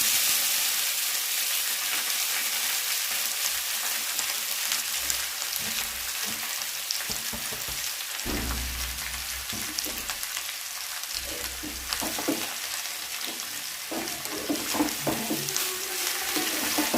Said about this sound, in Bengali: এবার আমি কুচিয়ে রাখা লাল শাকগুলোকে দিয়ে দেব তেলের মধ্যে